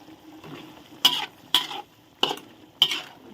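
Spatula scraping and stirring catfish frying with curry paste in a pan, four sharp scraping strokes over a steady low sizzle, close and fairly loud with no talking.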